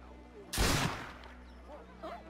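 One sharp gunshot bursts out in the video game Assassin's Creed Liberation, loud and brief with a short decaying tail, followed by faint in-game voices.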